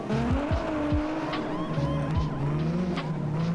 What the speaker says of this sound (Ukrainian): Звук непоганий, кстати. І прям дає дрифтить, ніфіга собі.